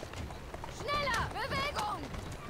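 Horse hooves clop rhythmically as a carriage is pulled through the streets in Assassin's Creed Syndicate, a steady mid-level beat running beneath a voice speaking over it.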